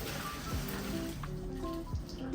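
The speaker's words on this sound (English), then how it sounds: "So once it's cooked, we're gonna turn the flame off and we're gonna strain off the water." Hot water is strained off cooked mushrooms, pouring and splashing steadily and close by throughout, with faint kitchen sounds underneath.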